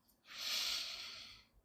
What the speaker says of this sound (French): Sur ce, faisons un petit peu de respiration.